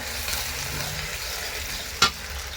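Chopped onions frying in a pan for a chicken curry with potato and cauliflower, a soft steady sizzle with stirring and one sharp scrape of the spoon near the end.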